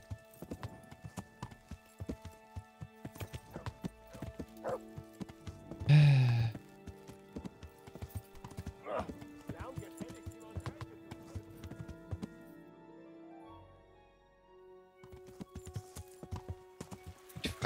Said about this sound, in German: dann reiten wir jetzt Richtung D.